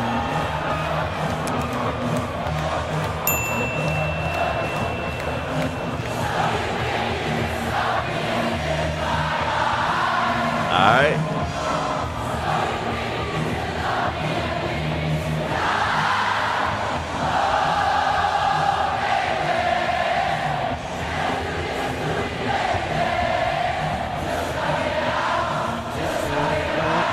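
A large concert crowd at a show sings a song together, a broad roar of many voices with swelling cheers and shouts, filling the space continuously and loudly throughout.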